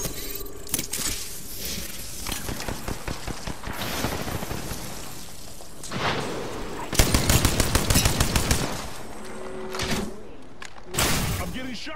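Rapid gunfire strikes the player in the video game Apex Legends, dense bursts of shots and impacts that keep coming in waves throughout, loud and close under excited talking.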